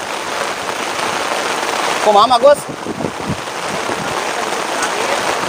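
Steady rain falls during a fishing outing, a dense broadband hiss running throughout, with brief voices and a few sharp crackles near the middle.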